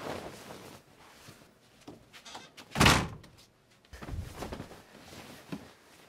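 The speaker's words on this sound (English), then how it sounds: "Hey, close the door!" A door is shut once, with a single loud thud standing out against quieter room noise and some shuffling before and after.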